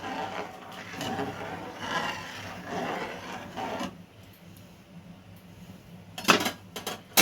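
A spoon scrapes and clatters against a cooking pot while khichuri is stirred, with repeated close metallic scraping for several seconds, a lull, then a final burst of clinks.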